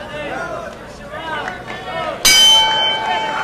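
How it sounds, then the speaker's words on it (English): A bright, sharp ring of a boxing ring bell cuts in during a world strawweight title fight, clanging loud and sustained over an arena crowd murmur and commentary. "Bell sounds, round 11."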